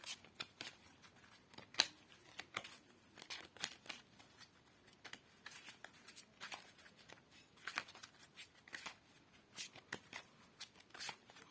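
Tarot cards shuffled by hand for a reading, a quiet, steady riffle of crisp slaps and flutters coming in irregular bursts, close and alone with no talking.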